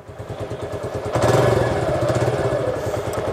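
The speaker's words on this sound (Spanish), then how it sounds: "La moto prendió bien, sin necesidad de oprimir de acá" A Suzuki Gixxer 150 motorcycle, fairly new, idles just after starting with a steady, rhythmic, close-up putter that swells slightly louder partway through, without anyone speaking.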